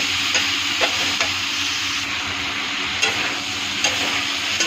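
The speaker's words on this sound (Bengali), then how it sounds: "আলুটা ভাজা ভাজা হয়ে গেছে, এখন আমি লাউ কাটাটা ছেড়ে দিব এর মধ্যে।" Chopped bottle gourd fries with potatoes in a pan, a loud, steady sizzle with periodic spatula scrapes as it is stirred, and no talking.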